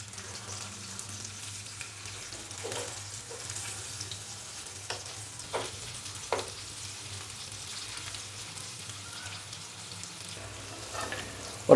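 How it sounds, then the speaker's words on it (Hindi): Fish frying in a pan for a spicy masala curry, a faint steady sizzle with a low hum underneath and a few soft clicks of a utensil, close and quiet. "और अभी फ़िश की दूसरी साइड को भी हम 2 से 3 मिनट के लिए फ्राई कर लेंगे।"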